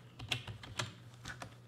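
Computer keyboard keys tapped in a quick, irregular run of about five close, crisp clicks, typing a command on a PC while setting up a MikroTik router.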